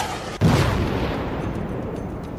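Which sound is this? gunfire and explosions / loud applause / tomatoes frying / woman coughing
gunfire and explosions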